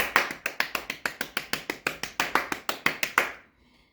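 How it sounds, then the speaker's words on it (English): About twenty crisp, close claps land in an even, brisk rhythm, one every fraction of a second, then stop abruptly into near silence. "let's give Kim Zolciak Bitterman a round of applause, everybody"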